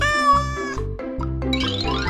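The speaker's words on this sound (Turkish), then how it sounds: "kedi" A cat lets out a drawn-out, clear meow, then a shorter one, with upbeat music playing underneath.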